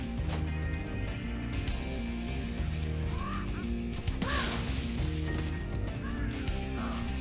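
A bird honks in the video game Spyro: Reignited Trilogy, short goose-like calls partly buried under loud, busy game music.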